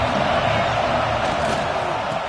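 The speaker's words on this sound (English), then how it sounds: "This crowd ready to make its presence known." A stadium crowd at a football game roars in a steady, dense wash of cheering that holds at an even loudness throughout, with no individual voices standing out.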